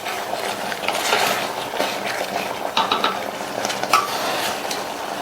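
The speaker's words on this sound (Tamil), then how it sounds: "நல்ல ஒரு தடவை மிக்ஸ் பண்ணி விட்டுறலாம்." Banana stem kootu being stirred in a pot with a spoon, a steady close scraping and clinking of utensil against metal with soft sizzling underneath, continuing for several seconds without pauses.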